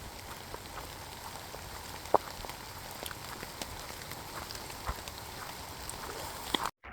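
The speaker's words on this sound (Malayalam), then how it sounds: "നല്ലധികം മഴയുണ്ട്" Rain falling on a small forested hilltop, a soft continuous patter with scattered sharper drips and taps, fairly faint and steady before cutting off abruptly at the end.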